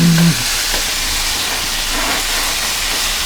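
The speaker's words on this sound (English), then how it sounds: "Sausage is browning." Sausage browning in a pan gives a steady, dense sizzle and hiss, close and constant throughout with no talk.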